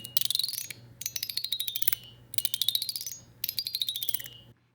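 Four quick runs of bright, tinkling notes from a fidget-slider music box, each a rapid ratcheting sweep of plucked tines lasting about a second, with short pauses between.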